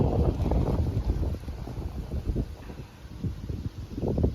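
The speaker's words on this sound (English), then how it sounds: "It's a nice windy day" Gusty autumn wind buffets the microphone in uneven rumbling bursts in a garden, rising and falling throughout with no voices.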